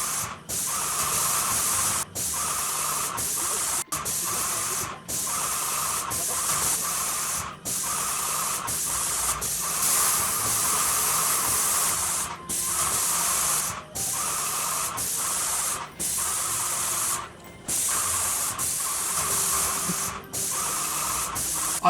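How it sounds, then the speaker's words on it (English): A paint sprayer spraying flat white Sherwin Williams paint onto cured cement basement walls, a loud continuous hiss broken by brief pauses every few seconds as the trigger releases, close up with no talking. "I am spraying 2 coats of paint for this job."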